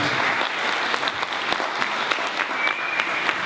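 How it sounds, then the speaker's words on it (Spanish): Crowd at a 2017 political forum with presidential candidate Alejandro Guillier applauds visiting students from other Peñalolén schools, a steady, even patter of many hands throughout. "Aplausos."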